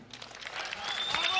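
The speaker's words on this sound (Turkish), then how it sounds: "Alkışlıyoruz bu güzel konuşmalarından dolayı." An audience applauds in a fight arena after a speech in the ring, the clapping rising steadily and growing slightly louder through a brief burst with some voices mixed in.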